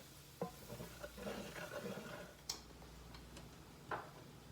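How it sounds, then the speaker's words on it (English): Sausage being stirred and worked into flour cooking in a pan for Southern biscuits and gravy, with a faint sizzle and a few sharp utensil scrapes and taps against the pan, no talking. "start working it in while that flour's cooking"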